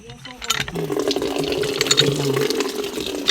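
Spring water gushing from a hose fed by a pump, a steady rushing splash that starts abruptly and continues with a voice talking over it.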